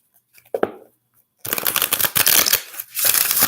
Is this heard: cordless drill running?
no